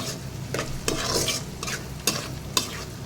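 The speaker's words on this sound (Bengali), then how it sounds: "এদিক দিয়ে আমি পেঁয়াজগুলো ভালো করে ভাজতে দিয়েছি" Onions sizzle steadily in a hot pan while a utensil scrapes and stirs them in several distinct strokes, close and clear.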